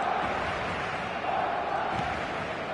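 A dense stadium crowd at a football match roars continuously, a loud, steady wash of massed voices with no pauses.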